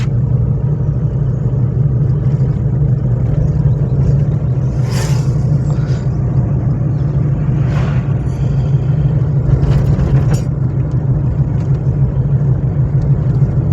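Car engine idling and running steadily during a driving lesson, a continuous loud low rumble with a few brief faint clicks and rustles from inside the cabin.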